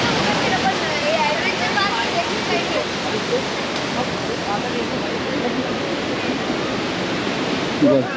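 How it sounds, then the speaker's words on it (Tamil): A waterfall on a trip route rushes in a loud, steady broadband roar close by, with faint voices briefly surfacing near the end. "அந்த ஃபால்ஸ் தான் இப்போ போயிட்டுருக்கோம்"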